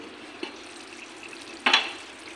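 Chili fish with tomato and soy sauce simmering in a covered pan, a low steady sizzle with a soft clink near the start and a brighter burst of frying as the lid is lifted partway through.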